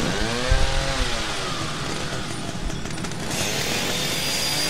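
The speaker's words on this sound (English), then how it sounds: "I'm sure he would throw away the chainsaw afterwards." A chainsaw in the horror video game The Evil Within revs in a loud, continuous buzzing drone with wavering pitch, mixed with a dense game soundscape and a couple of low thumps.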